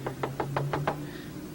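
Six evenly spaced knuckle raps on a house door, sharp and moderately close, fading into a quiet room hum with no talk.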